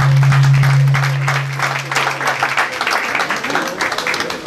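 Applause at a birthday celebration, a crowd clapping steadily over a low sustained hum, the claps fairly close and loud and fading slightly toward the end.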